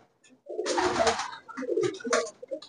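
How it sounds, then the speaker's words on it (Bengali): Pigeons in a large Giribaj pigeon loft in Kolkata cooing close by, with several throaty, rolling coos overlapping in quick succession. "অপূর্ব পায়রা, অপূর্ব কিছু পায়রা"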